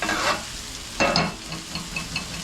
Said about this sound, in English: Turn the burner off and let's fry up an egg.